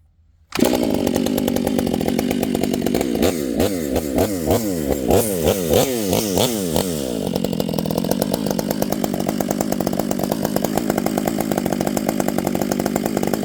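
A Stihl MS 500i chainsaw starts abruptly and runs loud and close, its engine revving up and down as it bites through wood, continuous for the rest of the clip.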